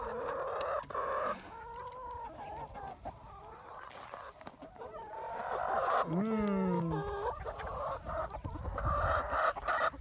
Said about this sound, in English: He's one old rooster.